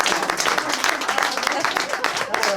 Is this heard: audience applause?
yes